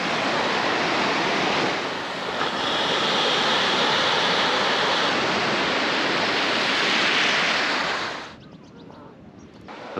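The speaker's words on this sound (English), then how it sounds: "The ocean." Ocean surf on the west coast of France rolls in as a steady, loud, close roar of breaking waves that falls away sharply near the end.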